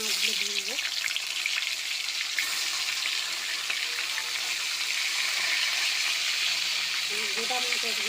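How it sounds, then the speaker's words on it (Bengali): Bhola fish sizzle in hot mustard oil in a pan with a continuous, even frying hiss. A few faint tonal sounds show at the start and end. "তেলটা গরম হয়ে গেছে, মাছগুলো দিয়ে দেবো।"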